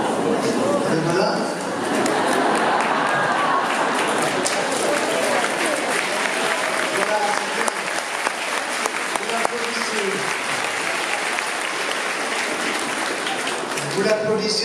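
An audience at a conference applauds a speaker, broad sustained clapping filling the room at steady loudness, with voices talking over it toward the end.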